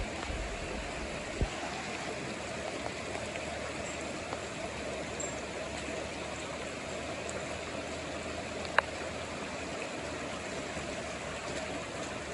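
Floodwater rushes steadily across a ranch after heavy rain, a broad, unbroken roar heard close up without any voices.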